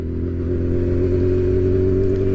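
Motorcycle engine held at a steady, loud rev close by, a constant droning hum with no talk, just before a wheelie.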